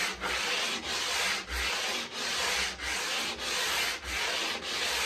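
Rhythmic sanding strokes on a wooden guitar fretboard being radiused, a steady rasping rub repeated about eight times with brief pauses between strokes, close and fairly loud.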